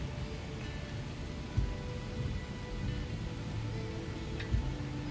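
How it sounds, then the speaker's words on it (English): Steady rain falling outdoors at Gettysburg National Military Park in Pennsylvania, an even, moderately quiet hiss throughout with a couple of soft thumps and no speech. "It's raining pretty good now."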